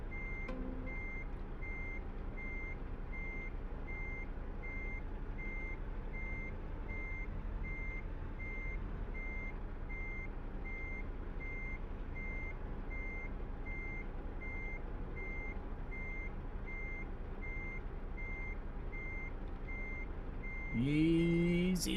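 Truck reversing beeps in Euro Truck Simulator 2, a steady evenly spaced electronic tone repeating throughout over a constant engine rumble, with a brief louder sound near the end.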